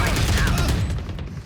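Rapid bursts of gunfire from a rifle in the tactical shooter Valorant, a dense, steady stream of shots sprayed without pause, loud and close, with voices mixed underneath.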